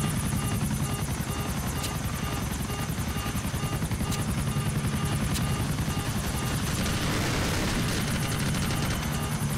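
Helicopter in GTA IV online free mode, its rotor thumping loud and continuous for several seconds, with scattered gunfire and booms mixed in.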